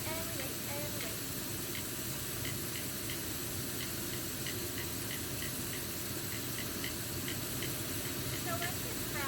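Gluten-free chicken fingers fry in shallow oil in a pan with a steady, soft hiss and faint crackling ticks, continuous and close, with a voice talking over the sizzle.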